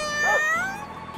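A single short, close cat meow rises and then falls in pitch and is heard alone.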